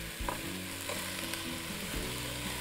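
Peas and carrots sautéing in a pot with onion, celery and garlic, a steady close sizzle with stirring scrapes and a few soft knocks, with no talking.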